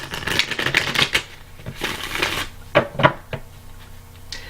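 Several decks of tarot cards shuffled by hand in a series of crisp riffling bursts, close and fairly loud, with brief pauses between rounds and no talking.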